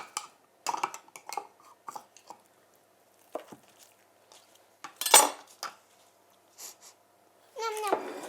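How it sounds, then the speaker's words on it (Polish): A knife cuts rolled pizza dough into centimetre slices on a board, producing a series of short, close, separate taps and soft squishes. "Odkrawam pierwszy kawałek, a następnie kroję centymetrowe kawałki."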